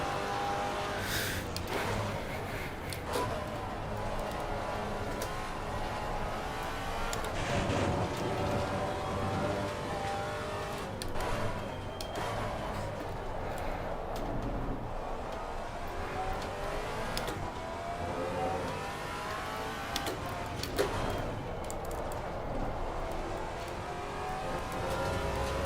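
A Maserati MC4 GT4 race car in Assetto Corsa Competizione at Brands Hatch, its engine droning and revving continuously from inside the car, rising and falling through gear changes over a long stretch of a lap.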